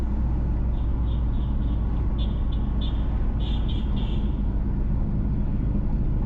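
Steady loud interior rumble of a car driving along a road through Waugh Hill in St. Catherine Parish, Jamaica, with continuous road and engine noise and a few faint high chirps.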